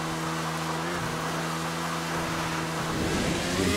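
Car in the video game GTA V held at full throttle, a loud sustained engine roar whose pitch climbs and shifts as it accelerates, with no talk.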